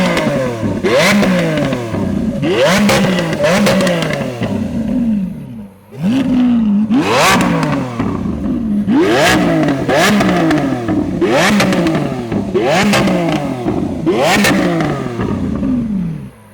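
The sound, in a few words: Lamborghini Aventador engine revving hard, throwing exhaust flames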